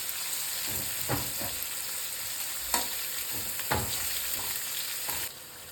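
Onions frying in plenty of oil for rice upma, a steady hissing sizzle with occasional spoon scrapes and stirs in the pan, continuous and close.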